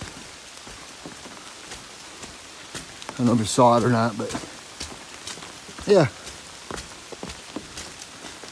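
Steady rain patters around a hiker on the Appalachian Trail, a soft continuous hiss beneath a voice speaking briefly in two short bursts.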